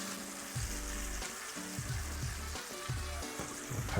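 Seasoned ground meat, still slightly frozen, frying in a pan for quesadillas, with a steady crackling sizzle and irregular scraping and stirring noises, no talk.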